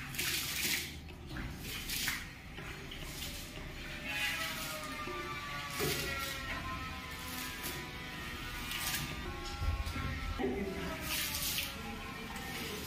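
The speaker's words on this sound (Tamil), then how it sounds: "இப்போ தண்ணி மட்டும் ஊற்றுறாருங்க" Water is poured into a sand-cement mortar mix on a building job, giving continuous splashing and gurgling that runs the full length at moderate level, with faint background noise around it.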